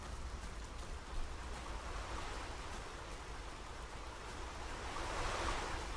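Water waves in the video game The Forest, a steady rushing wash of surf noise, continuous and moderately loud, swelling slightly near the end with no speech.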